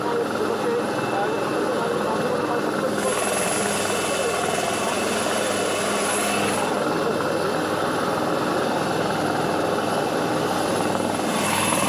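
An Air Force helicopter arrives at Chooralmala during the Wayanad rescue, its rotor roar loud and constant throughout with voices partly heard beneath it.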